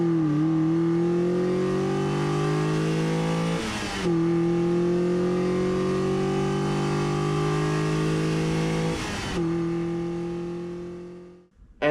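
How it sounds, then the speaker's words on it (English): A car engine revs hard with a droning intake roar climbing steadily in pitch, close and loud, in two long pulls separated by quick gear-change breaks, then dropping off at the end. "It makes this intake noise."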